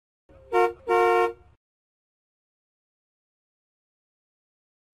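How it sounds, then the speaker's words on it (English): A car horn honks twice, a short toot followed by a longer blast, then silence. "Car."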